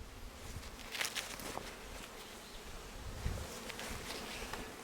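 Honey bees buzz steadily in a soft, close swarm hum during a hive inspection, with a few louder passes rising briefly above the drone.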